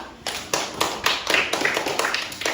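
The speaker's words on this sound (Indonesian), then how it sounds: "Coba beri tepuk tangan dulu untuk kelompok 2" Schoolchildren in a classroom give a round of applause for a group of classmates, a few loud, close bursts of clapping in a rough, uneven rhythm.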